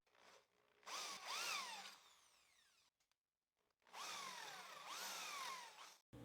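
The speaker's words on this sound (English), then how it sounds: "I'll use a 10 millimeter drill bit to make the holes" Power drill with a 10 mm bit boring dowel holes into a wooden workpiece for a joinery project: two separate whining bursts of a couple of seconds each, motor pitch sweeping up and down, separated by a short silence.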